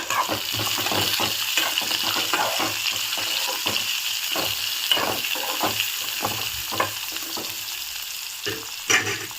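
Steady oil sizzle of garlic frying in a pan, with occasional crackles and pops, close and continuous with no talking.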